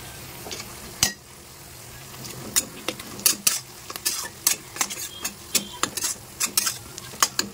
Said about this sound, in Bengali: এবার আস্তে আস্তে বাটা মশলাগুলো দিয়ে দেবো। প্রথমে দেবো হচ্ছে আদা